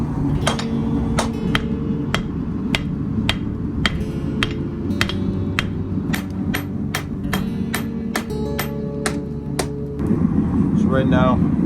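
A hammer strikes a hot knife blade on an anvil in a steady series of sharp metallic rings, about two per second, heard close over a constant forge roar that swells near the end.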